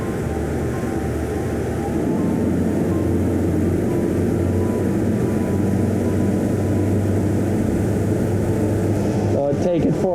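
Twin engines of a 2024 Greenline 45 Coupe motor yacht roar steadily as the boat pushes from planing speed toward top speed, a loud continuous drone with a deep low hum, wind and water rush, and brief speech near the end.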